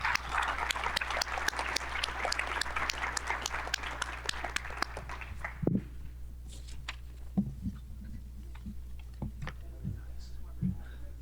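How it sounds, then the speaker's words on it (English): Conference attendees applaud a panel at a professional landmen's meeting, a soft, fairly distant patter of clapping for about five seconds that gives way to quiet room noise with faint shuffles and a low hum. "Let's give them a round of applause."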